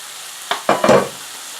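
Mushrooms and stuffed pepper filling cooking in a pan give off a steady, faint hiss, with a few brief stirring scrapes and a sizzling burst in the middle.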